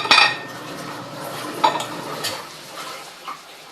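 Soft papaya pieces set down on a plate, a sharp clink of utensil on dish at the start followed by a few quieter taps and scrapes, close by and without talk.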